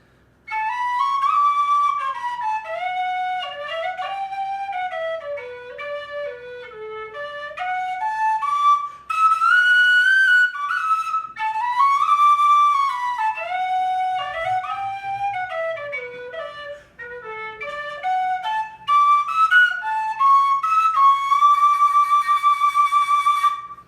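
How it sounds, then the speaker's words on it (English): A Tony Dixon Trad Brass G whistle plays a lilting melody alone, its clear, pure tone stepping up and down through phrases with smooth slides and a few brief pauses. "This is the Tony Dixon Trad Brass G whistle."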